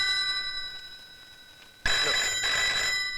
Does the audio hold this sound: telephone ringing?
yes